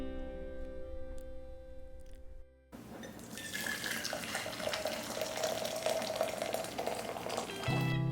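Boiling water pours into a frying pan holding olive oil and canned sardines with their juice for a one-pan soup spaghetti, a steady close rushing gush with faint sizzle that starts abruptly after a quiet hum and then stops.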